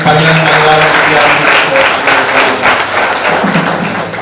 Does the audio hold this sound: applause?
yes